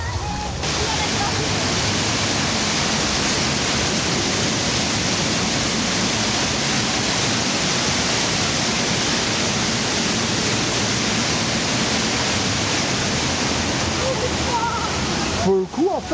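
Loud, continuous splashing and rushing of a fountain at Bellewaerde theme park, a dense unbroken wash of water noise that cuts off abruptly near the end.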